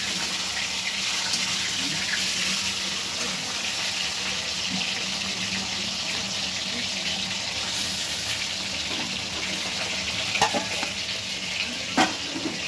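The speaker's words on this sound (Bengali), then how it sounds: "এবার গ্যাসটা জোরে করে মাছগুলো লাল করে ভেজে তুলে নেব।" Fish pieces for Maher Kalia sizzle steadily in hot oil, a continuous crackling hiss with a few sharper pops and clinks of a utensil toward the end, no voices over it.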